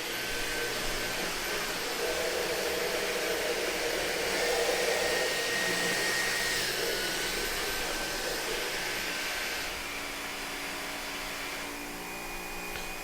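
A Dyson Gen 5 Detect cordless vacuum whirs continuously on boost mode, its pitch and intensity shifting up and down as the motor adjusts suction, then easing off toward the end.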